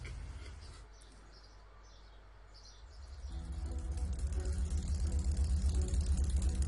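A motorbike engine in the video game Trails of Cold Steel, a low idle rumble that swells into a loud, steady revving drone midway and holds to the end.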